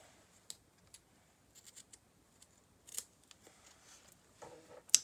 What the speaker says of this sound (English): I can take a piece of my ribbon and I can cut it to the length that I need.